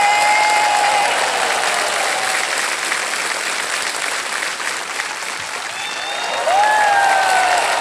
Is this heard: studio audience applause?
yes